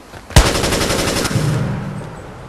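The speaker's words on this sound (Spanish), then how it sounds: "¡Nos disparan!" Machine gun fire in Watch Dogs, a sudden sharp burst of rapid, evenly spaced shots lasting about a second, loud and close, followed by a fading tail and game ambience with no talking.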